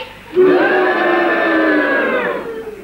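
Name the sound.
crowd cheering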